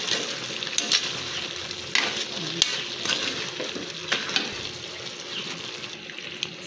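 Mussel meat is stirred into a creamy coconut-milk vegetable and seafood stew, giving soft wet sloshing with scattered sharp utensil clinks and a low simmering sizzle.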